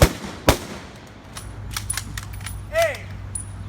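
A color guard fires a rifle volley as an honor salute at a street memorialization ceremony in Oakland, New Jersey: a sharp crack opens the clip, another follows half a second later, and then comes quieter outdoor ambience with a brief voice.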